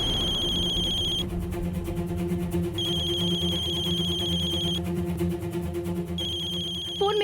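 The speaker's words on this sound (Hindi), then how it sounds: "ये तो किसी लैंडलाइन नंबर से फोन आ रहा है।" A telephone rings with an electronic ringtone for a call from a landline number, playing repeated bursts with short gaps between them. It is clear and steady over a low background hum, and no one speaks.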